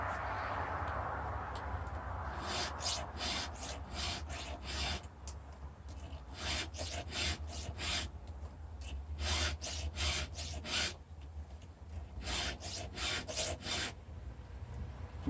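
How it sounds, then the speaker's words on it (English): Hand file rasping across the teeth and gullets of a ripping chainsaw chain in steady, close strokes, bursts of scraping in rhythmic runs with short pauses between sets. "I'm pressuring the front side of the file and I'm digging out the gullet in the front side"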